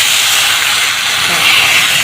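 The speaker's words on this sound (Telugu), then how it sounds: "పిండి పోస్తుందండి అందులో" Batter poured into hot oil in a pan, a loud, close, continuous sizzling hiss that holds steady for about two seconds, with no talking over it.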